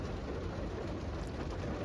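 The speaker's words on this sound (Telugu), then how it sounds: "చూడండి వర్షం ఫుల్ వర్షం" Heavy rain falling outdoors during a rainy birthday gathering, a dense, continuous broadband roar that stays even and unbroken throughout, fairly distant and soft.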